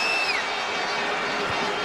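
Football stadium crowd at a Wales vs England World Cup qualifier, a steady loud roar of many voices and whistles holding throughout with no break.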